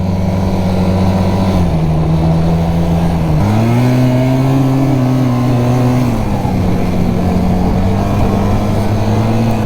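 A four-stroke snowmobile engine drones steadily while riding over rocky snow, its pitch climbing and dipping as the throttle changes, loud and close throughout with no voices.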